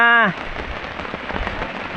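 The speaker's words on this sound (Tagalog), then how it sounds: "naghihina-hina na ang ulan guys" Rain falls near the sea and is easing off, giving a steady, fairly loud patter and hiss on surfaces. A brief tonal sound opens the clip before the rain noise continues alone.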